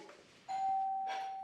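A single electronic doorbell chime, a clear two-tone ding that rings out and lingers in a quiet room.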